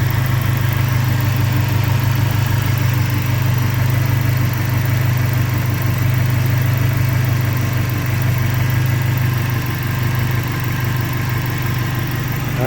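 Subaru engine idling just after its first start, a steady low drone running evenly and close throughout, with no talk over it.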